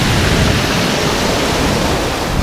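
Broadband roar of cold sea surf breaking on the French coast, with wind blowing steadily over it, loud, close and continuous without any talking.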